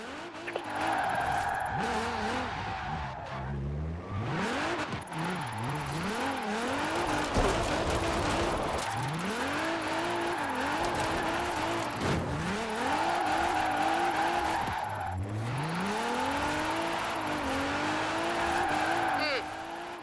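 A car drifts in the racing game Forza Horizon 4, its engine revving and dipping through repeated slides while tires squeal and skid almost without pause for about twenty seconds.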